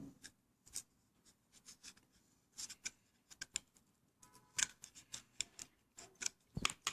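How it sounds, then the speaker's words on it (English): Scissors snip through a paper cup in a string of short, crisp cuts with small scraping sounds, quiet and close with no talking. "Okay, scissor, maybe this is easier."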